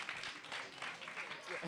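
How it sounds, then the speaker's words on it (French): An audience at a cultural quiz claps steadily, a faint, dense patter that continues throughout at an even level. "Napoléon Bonaparte, on peut l'applaudir bien fort"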